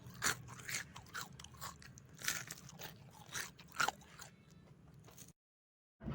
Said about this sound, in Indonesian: Kriuk banget bakwannya.